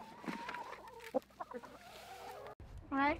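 Chickens on a country farm cluck softly and intermittently nearby, with a louder drawn-out squawk near the end, under quiet background noise.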